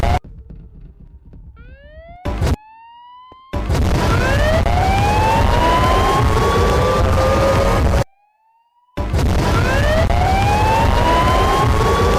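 A loud, eerie siren wail from the Siren Head monster in Minecraft rises and falls in long sweeping tones, with brief cuts to silence between stretches, over a low rumbling background.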